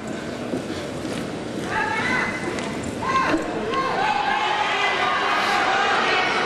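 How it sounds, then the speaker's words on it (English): Hoofbeats of a stud horse running on soft arena ground at a world championship horse show, with a crowd murmuring and a voice talking over the top throughout. "Well, the stud horse got out good."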